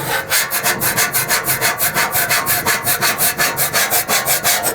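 A scraper is dragged over a rusty Blackstone cast iron griddle in quick, regular back-and-forth strokes, about twenty rasping passes in a steady rhythm, loud and close.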